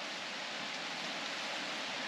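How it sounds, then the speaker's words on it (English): Steady rain patters on a tent pitched on a river bank during a solo wild camp, a dense even hiss with no breaks and no voices. "the rain's still going"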